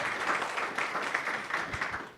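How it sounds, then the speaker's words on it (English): Audience applause for public safety leaders at a civic event, a brief, fairly faint patter of many hands clapping at a steady level throughout. "They give our public safety leaders a round of applause"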